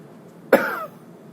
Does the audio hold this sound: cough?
yes